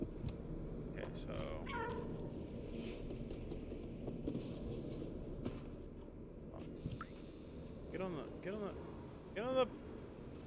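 A pet cat gives several short, close meows near the end, over a busy background of indoor sounds and voices.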